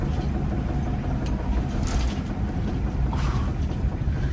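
An old bus with a suspected failing wheel bearing rolls along, giving a steady, dense rumble of road and engine noise with faint higher whirring, continuous and fairly loud, no voices.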